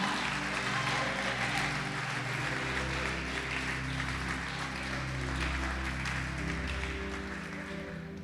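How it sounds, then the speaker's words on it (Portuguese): A church congregation applauds together, a continuous wash of clapping layered over a sustained low musical drone from the front of the hall. "Você pode aplaudi-lo e glorificá-lo."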